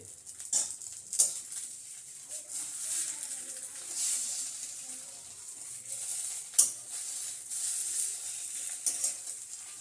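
Egg toast frying in a pan, a soft continuous sizzle with occasional sharper crackles and scraping stirs, close and fairly quiet with no talking.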